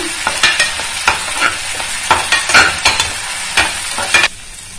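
Crushed fenugreek seeds sautéing in a pan for a homemade hair oil, with a steady sizzle broken by repeated sharp scrapes and stirring clicks of a spoon, close and fairly loud, no talking.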